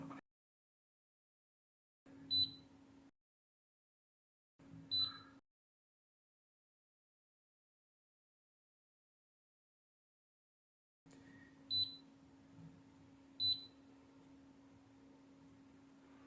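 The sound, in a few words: multimeter beeping in diode mode on shorted DC rail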